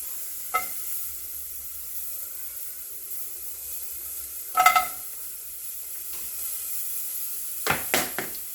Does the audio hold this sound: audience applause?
no